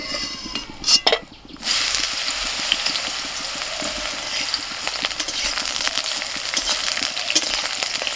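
Eggplant fries in hot oil with salt and turmeric, producing a loud steady close sizzle that follows a brief clatter and stir at the start.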